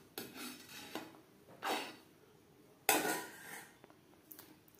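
A metal spoon scrapes and clinks against a pot while foam is skimmed off boiling dal, in four separate scraping strokes of rising loudness, close up, with no speech.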